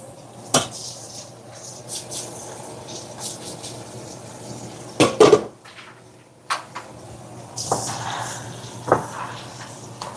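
A spoon knocking and scraping in a cooking pot of potatoes, a few sharp clinks and clatters separated by quiet stretches, close and fairly loud.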